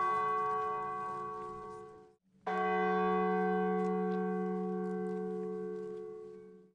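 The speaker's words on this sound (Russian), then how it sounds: "Первые удары церковного колокола оповещают о наступлении полуночи." A large Orthodox church bell strikes twice at midnight on Easter, each deep, ringing toll humming and slowly fading, with a brief silence between.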